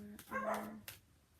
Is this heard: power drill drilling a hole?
no